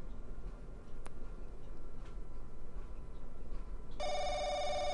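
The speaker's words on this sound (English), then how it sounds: "Phone ringing again." Telephone ringing in the horror RPG The Crooked Man, a steady electronic ring tone starting near the end and repeating over a low background hum, fairly loud and alone.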